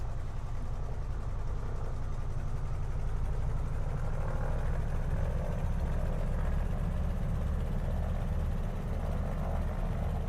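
Round radial aircraft engines in a flight simulator game, held at 1,000 RPM, giving a steady, even droning rumble with no change in pitch and no voices.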